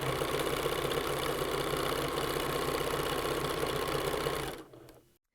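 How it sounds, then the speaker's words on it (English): Sewing machine stitching a T-shirt quilt with a presser foot and white thread, a loud, steady, close hum that runs continuously, then winds down and stops just before the end. "When I begin, I'm going to sew forward, backwards, forward, so I have an extra strong stitch at that location."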